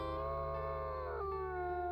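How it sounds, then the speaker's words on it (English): A wolf howls in WolfQuest Anniversary Edition: one long, loud, tonal howl held steady and then dropping sharply in pitch partway through, alone without talk. "let's go ahead and howl so that we can mark this carcass for later"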